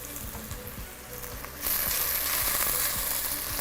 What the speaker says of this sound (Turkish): Aynen köz patlıcanın soğanları karamelize olmaya başlamış.